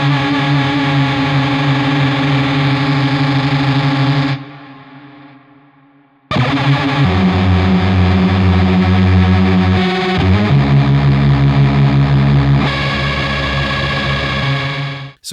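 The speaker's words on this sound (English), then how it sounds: "if you put this through the amplifier, it actually starts to sound like a wild organ" Electric guitar through an Archetype Rabea preset and an amplifier, producing a wild, swelling organ-like tone with heavy modulation and echo; loud sustained chords, then a brief fade to near silence before the playing resumes.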